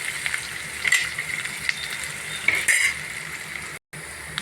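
Tempering spices sputter in hot oil for raw mango rasam, a close steady sizzle with a few sharp metallic clinks of a spoon against the pan and a brief dropout near the end.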